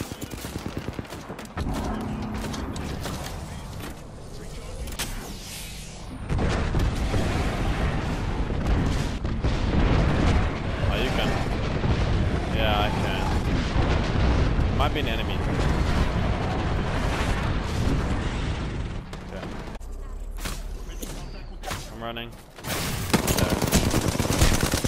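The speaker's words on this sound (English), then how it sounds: "I'm gonna throw an airstrike." Gibraltar's airstrike pounds the ground in Apex Legends, a long, dense barrage of loud, overlapping explosions and rapid gunfire that rumbles almost continuously for about fifteen seconds before easing off.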